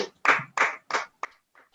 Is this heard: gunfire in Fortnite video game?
no